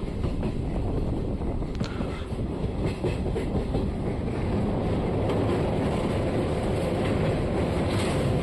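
The Chamundi Express train running from Mysore to Bangalore, heard from on board as a steady, dense rumble of wheels on rails with faint clickety-clack and rushing wind, with no talking.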